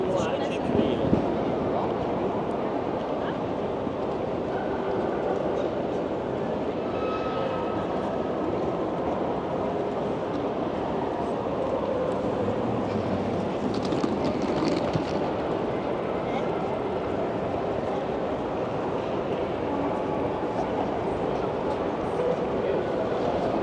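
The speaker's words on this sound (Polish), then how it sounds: "obejrzymy dworzec kolejowy Bazel" Busy Basel railway station ambience: a low, steady rumble of trains and a hall echo, with people's voices murmuring throughout.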